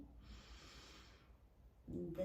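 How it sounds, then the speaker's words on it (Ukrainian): A long, steady breath drawn in during a heart-opening self-regulation breathing exercise, heard close as a soft airy inhale that fades, followed by the start of talking. "Потім робимо вдих на три"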